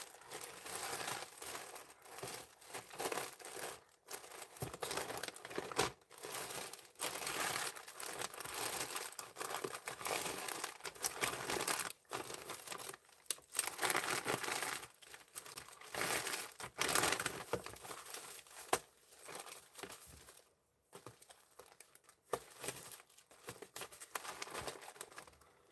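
Close, continuous rustling and crinkling of packaging as jewelry is handled at a live sale, with irregular crumpling bursts and short pauses throughout.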